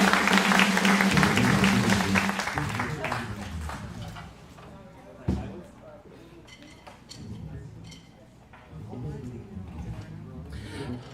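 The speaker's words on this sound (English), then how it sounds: "Give a round of applause" An audience at an open mic jam session applauds loudly for about four seconds after a performance, then the clapping fades into murmuring voices and low room sound.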